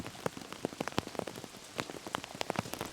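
Rain falling on a fishing boat in the Florida Keys: scattered drops tap and patter on the surfaces in an irregular, close rhythm over a steady soft hiss of rainfall, with no voices.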